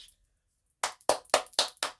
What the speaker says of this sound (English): I gotta clap through this.